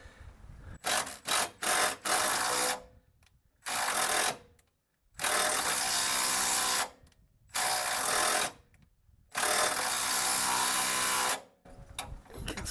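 Ratchet working a bolt back and forth through oiled threads on a Chevy Colorado, loud bursts of rapid clicking separated by short pauses, in an irregular start-stop rhythm.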